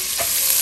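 Celery frying over medium heat in bacon fat in a pot for Manhattan clam chowder, a steady close sizzle with a brief stir near the start.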